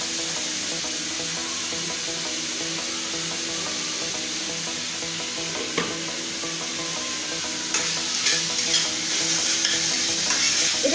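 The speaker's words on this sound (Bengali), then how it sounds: "ভালো করে নেড়ে নিচ্ছি। একটু ভালো করে ভাজতে হবে, মানে ব্রাউন হবে না কিন্তু নরম হবে জিনিসটা।" Vegetables for cheese macaroni are stirred and fried in a pan, a steady close sizzle with scraping utensil strokes growing busier toward the end, with no talking.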